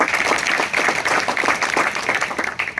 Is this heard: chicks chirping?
no